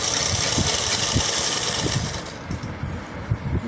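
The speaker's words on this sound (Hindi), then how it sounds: "फिर ऐसे इसको सिलाई यहाँ से स्टार्ट कर देंगे।" Sewing machine stitching a garment neckline in place, a steady mechanical whir with rapid needle pulses running continuously at close range throughout, no talk.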